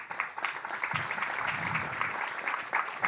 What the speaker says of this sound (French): je vais appeler les intervenants que je vous demande d'applaudir.